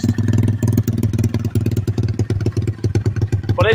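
A 125cc pit bike with a Nibbi Racing carburetor idling rich, a loud, close, lumpy single-cylinder putter with an uneven, chopping beat throughout.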